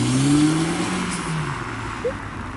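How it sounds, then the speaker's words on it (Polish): A car driving and accelerating, its engine note rising and sliding upward in a smooth sweep, close and fairly loud with steady road noise underneath and no talking. "Wracamy do domu moim autem marzeń!"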